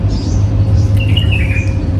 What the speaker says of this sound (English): But can you hear the birds?